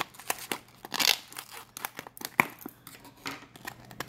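Scissors snip at the packaging of a plush toy from a blind bag, a series of short close clicks and crinkly tearing rustles in uneven rhythm, with one sharp snap midway and quiet gaps between.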